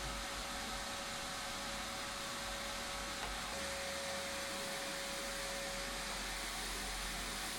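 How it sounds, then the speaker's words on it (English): A vacuum cleaner runs steadily throughout, a constant whooshing whine with no pauses or talk. "So everything gets a good vacuum everywhere."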